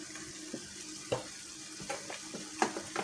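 Tomatoes and tomato paste being stirred in a pan for an okra and meat stew, a steady sizzle under scattered spoon scrapes and clinks spaced irregularly across the mix.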